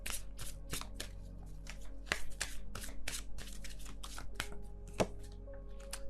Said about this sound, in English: I'm not shuffling very quickly or anything.